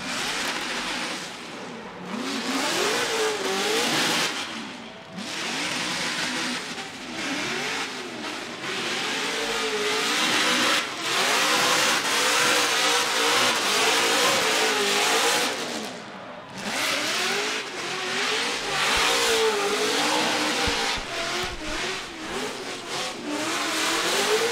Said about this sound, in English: there it is, some celebratory donuts